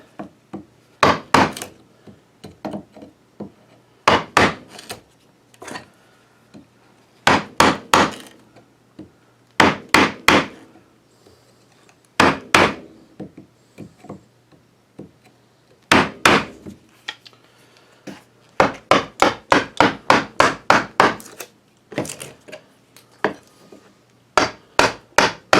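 A mallet drives a chisel into cherry wood while outlining a square tray, producing sharp, close wooden knocks in irregular clusters of two to five blows separated by short pauses, with faster runs toward the end.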